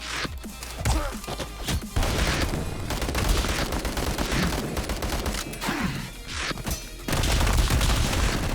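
Rapid volleys of gunfire crack and thud in the video game Madness: Project Nexus, dense and loud, with repeated bursts, impacts and brief gaps between heavy rounds.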